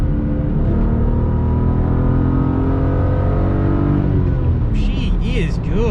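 A BMW 128i's engine revs loud and close from inside the cabin while driving, a steady full-throated drone that rises through the gears, with a voice speaking over it.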